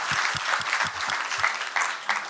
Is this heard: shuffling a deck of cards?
no